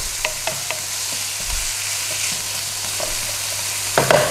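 Garlic and ginger stir-frying in a hot pan for Thai beef with ginger (pad khing). A steady hiss of sizzling oil runs throughout, with light scrapes and clicks of stirring scattered across it, and no talk.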